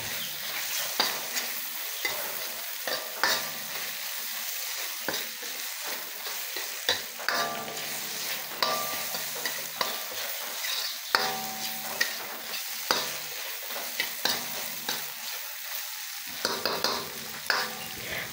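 Peeled, sliced shrimp sauté in a pan, a continuous crackling sizzle punctuated by frequent scraping and clacking strokes of a utensil stirring, close and fairly even over about eighteen seconds.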